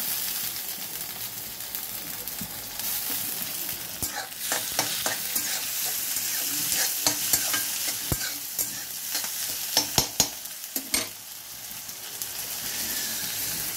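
Ginger is stir-fried in a pan while making chickpea curry: continuous loud sizzling, broken up by a run of sharp scraping and clattering spatula strokes near the middle, with no voices.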